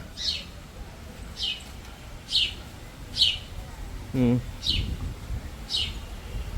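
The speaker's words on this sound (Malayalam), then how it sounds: "ഇത് കൊള്ളാം. കിളിയുടെ സൗണ്ട് കേൾക്കുന്നുണ്ട്." Birds chirping at Chokhi Dhani in Jaipur, Rajasthan, a series of short bright tweets repeating about once a second over a soft outdoor hum, with a brief lower call partway through.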